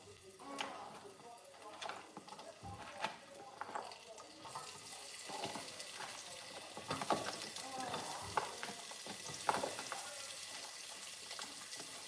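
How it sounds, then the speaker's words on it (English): Onion sizzles and crackles in a pan with intermittent stirring scrapes and clatter, a steady hiss running underneath throughout. "I'm going to fry this onion."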